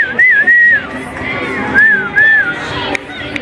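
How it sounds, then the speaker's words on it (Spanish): Loud, melodic two-finger whistles ring out repeatedly over a noisy crowd at a baseball stadium, cheering and urging people on amid background chatter. "Les chiflan para animarlos."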